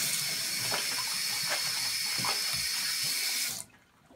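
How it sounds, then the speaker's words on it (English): Warm water runs steadily from a sink tap as hands are washed with soap, a loud continuous splashing rush that cuts off abruptly near the end, leaving near silence. "wash your hands with soap and water"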